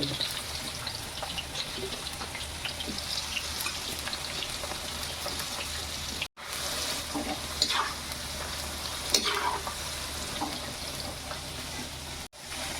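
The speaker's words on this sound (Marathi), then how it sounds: "गॅस मी फास्ट ठेवली आहे फास्ट गॅसवरच तळायचे आहेत आपल्याला" Okra fries in hot oil over a high gas flame, a continuous crackling sizzle with occasional stirring scrapes, close and steady throughout, with two brief dropouts.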